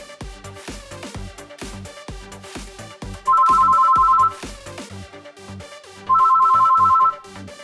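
A phone ringtone plays a repeating electronic melody with rhythmic beats, and two long, louder sustained tones cut in at regular intervals; no one speaks.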